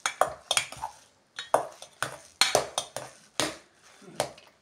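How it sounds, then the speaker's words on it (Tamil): A ladle mashing hot cooked rice for curd rice, producing a series of close, sharp scraping and tapping strokes against the pot in an uneven rhythm, with no talking. "இது சாதம் இப்படி சூடாக இருக்கும்போதே நல்லா கரண்டி வச்சு நல்லா நீங்கள் மசிச்சு விட்டுக்கோங்க"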